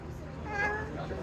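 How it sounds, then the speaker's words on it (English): A cat meows once in a street scene in Jeddah, Saudi Arabia during Ramadan, a short rising call heard close over a steady background hum. "I think I found a talking cat."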